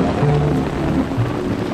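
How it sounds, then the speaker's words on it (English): A rain shower falls during a Mexican Independence Day celebration in Dolores Hidalgo, Guanajuato, producing a steady, dense hiss of drops that stays constant and fairly loud throughout, with no voices. "And we got rained out."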